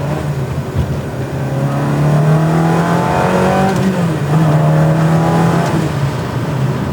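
A Ferrari 360 engine revs steadily upward to 5,000 RPM, a loud, continuous high-pitched mechanical howl heard from inside the car, rising smoothly in pitch.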